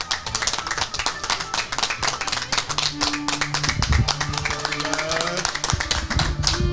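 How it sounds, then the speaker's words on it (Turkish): A studio audience claps together for a family on a Turkish comedy show, with dense rhythmic hand claps running throughout, while a host speaks and sustained music tones sit under the clapping. "Susmasın alkışlar güven"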